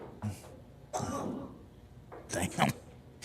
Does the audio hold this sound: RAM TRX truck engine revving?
no